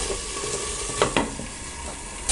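Raw banana slices cook in a pan over a low flame, giving a steady soft sizzle with a couple of brief scraping clinks as the slices are moved around.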